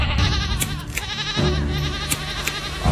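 Loud, quavering goat bleats close by at night in a Bengali cartoon, two or three calls in quick succession.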